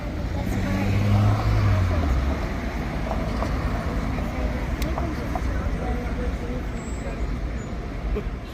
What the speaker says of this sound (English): So many nice cars here in Zurich.